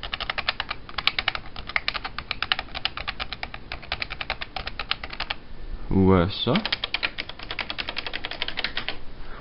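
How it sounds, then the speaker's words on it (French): A 1990s computer keyboard types in rapid, loud, close clicks that run continuously, pause for a brief spoken word, then resume. "Je vais vous faire entendre un clavier de la même époque chez le concurrent d'Apple."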